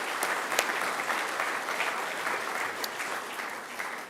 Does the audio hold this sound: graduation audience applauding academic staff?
yes